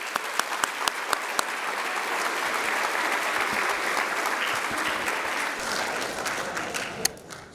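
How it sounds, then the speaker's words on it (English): Audience at a senior scholarship recognition ceremony breaking into sustained applause, a dense even roar of clapping for about seven seconds, with a few sharp individual claps standing out before it fades. "Let's give that a round of applause."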